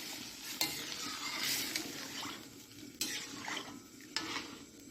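Fried spice tempering poured into simmering dal in a pot hisses and sizzles, with loud bursts of spitting and a few stirring scrapes and clanks against the pot.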